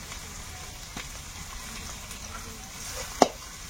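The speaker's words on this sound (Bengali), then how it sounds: "পেঁয়াজটা ভাজা হয়ে গেছে, এবারে এর মধ্যে আদা রসুন বাটাটা দেবো।" Onions fry in hot oil for chicken curry, just before ginger-garlic paste goes in: a soft, even sizzling hiss throughout, with one sharp utensil clink near the end.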